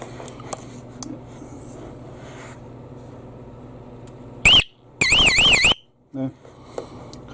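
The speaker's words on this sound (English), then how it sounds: "if you're in the van and the lights are flashing and the siren's going off" After a stretch of quiet background noise, a van's alarm siren wails loudly in short warbling electronic bursts, cutting in and out abruptly.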